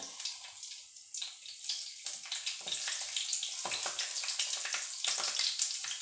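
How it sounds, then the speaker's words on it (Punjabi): Cumin seeds sizzle in hot oil while cooking dhaba-style cauliflower, a close, steady crackling hiss that builds and continues throughout with dense popping bursts. "ਤੇਲ ਆਪਣਾ ਗਰਮ ਹੋ ਗਿਆ ਇਹਦੇ ਵਿੱਚ ਆਪਾਂ ਐਡ ਕਰਦੇ ਆ ਜੀਰਾ"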